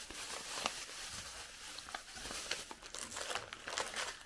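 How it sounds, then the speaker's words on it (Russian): A small plastic packet being handled: faint, close crinkling and rustling with scattered sharp crackles, irregular and quiet throughout, no speech. "Так, у меня тут пакетик."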